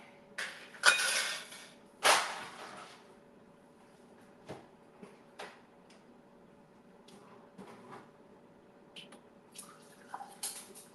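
Water poured into a glass of ice in a home kitchen makes a few sharp clinks and splashy bursts, separated by quiet gaps, followed by softer scattered ticks and trickles. No one speaks.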